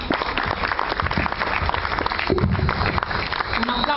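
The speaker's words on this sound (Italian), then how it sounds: "Un applauso allora ai vincitori." An audience applauding prize winners at an award ceremony, dense sustained clapping throughout, loud and close, with voices mixed into the crowd.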